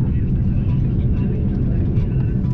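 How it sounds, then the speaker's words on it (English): Iberia Airbus A330 with GE CF6 engines on its takeoff roll, heard from the cabin as a loud, steady, deep roar that holds constant throughout. "Let's hear those GE CF6 engines."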